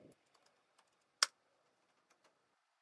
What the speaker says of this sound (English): we'll go into our terminal and write npm install